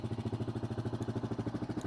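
A 1997 Kawasaki Mojave KSF250 ATV engine idles up close, a steady rapid chugging pulse with even, regular beats and a faint metallic clatter on top.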